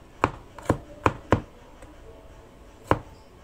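A knife chops garlic on a board: four sharp, close chops in quick succession, a pause, then one more firm chop.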